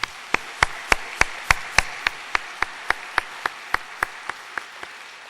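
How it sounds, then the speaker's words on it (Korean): Rhythmic, evenly spaced hand clapping in unison during a church evening service, about twenty sharp claps at a steady pace, fading slightly toward the end with no talk. "우리 그 하나님께 영광의 박수를 올려드리겠습니다"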